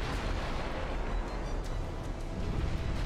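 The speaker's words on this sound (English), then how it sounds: "main guns are still going after the Santa Rosa" Naval main guns fire in the Ultimate Admiral Dreadnoughts battle game, a dense, rumbling barrage of heavy booms rolling together continuously at close, loud range.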